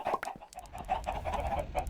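Chickens in Minecraft Tekkit 2 cluck in a short, close burst of several overlapping calls over a faint background.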